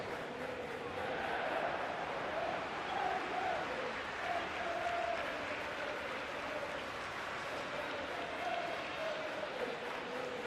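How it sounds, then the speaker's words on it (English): A capacity stadium crowd in a FIFA football video game, England versus Spain at the World Cup, gives off a steady, distant roar with chanting swells, while a commentator's voice talks over it. "a capacity crowd here"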